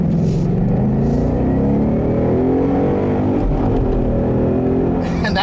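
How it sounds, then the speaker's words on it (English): A 2015 Ford Mustang GT with 435 horsepower accelerating hard under a steady loud engine drone that climbs in pitch, with a brief tire chirp near the end as the wheels hop on the shift into third. "That was definitely a little bit of wheel hop and chirp into third"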